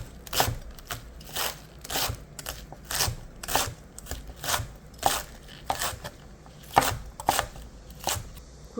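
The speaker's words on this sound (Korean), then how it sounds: "파를 이렇게 송송 썰어주세요." Green onions being finely sliced with a knife on a cutting board, a steady series of crisp close chops in an even rhythm, about two per second, heard alone without talk.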